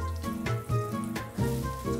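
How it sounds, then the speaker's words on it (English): Minced onion cooking slowly in melted butter in a frying pan until tender and translucent, giving a soft, continuous sizzle with faint crackles under low clattering and stirring noises, fairly quiet and close. "I cook it in a frying pan with some melted butter"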